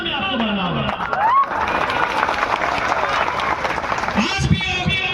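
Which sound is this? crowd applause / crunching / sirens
crowd applause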